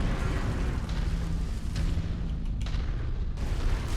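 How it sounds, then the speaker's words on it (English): Heavy, dense game-combat roar from AC-5 burst-fire autocannons in MechWarrior 5: Mercenaries, with loud booming bursts layered continuously over about four seconds and a few sharper cracks standing out near the end. "I love AC-5 burst fire autocannons"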